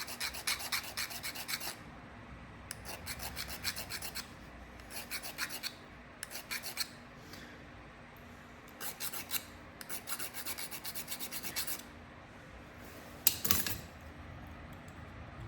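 Stone rasps repeatedly along the edge of a flintknapped coastal clay point, bursts of bright scraping strokes in irregular clusters with short pauses between, close and crisp, no talk.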